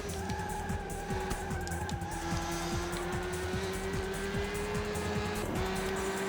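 Race cars in Le Mans 24 Hours on PS2 drone steadily with a sustained engine whine, shifting pitch over the run while tire squeal and skids come and go.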